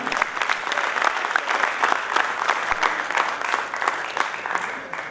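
A theatre crowd claps for a cast member at the curtain call of a Hindi comedy play, sustained loud applause from many hands filling the whole stretch without a break.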